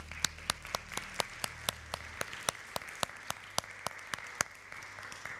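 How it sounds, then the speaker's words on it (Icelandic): Sparse, evenly spaced handclaps from a church congregation during a Sunday service at Lindakirkja, a slow steady clapping that fills the room. "fengið að gefa þeim gott klapp."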